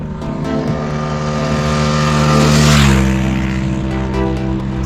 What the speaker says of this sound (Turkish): Vallahi motor geliyor.